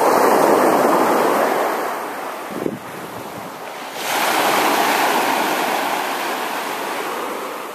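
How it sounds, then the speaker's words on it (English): Ocean surf rolls and washes onto the beach in a continuous roar, with heavy wind buffeting the microphone throughout. "Nice waves."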